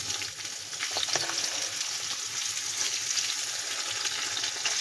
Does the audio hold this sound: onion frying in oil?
yes